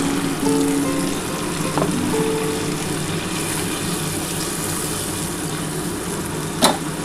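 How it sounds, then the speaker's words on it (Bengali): Hilsa fish curry sizzles and fries steadily in a pan as a little water goes in, a continuous crackling hiss with soft stirring scrapes and one sharp clink of a utensil near the end. "এবারে একটু জল দিয়ে দিলাম"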